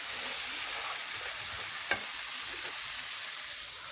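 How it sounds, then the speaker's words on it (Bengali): Ground cumin and coriander spice paste frying in a pan, a steady close sizzle and hiss with a single sharp clink midway and no voices. "এবার মশলাটাকে খুব ভালো করে ব্রাউন কালার করে ভাজা ভাজা করে নেব"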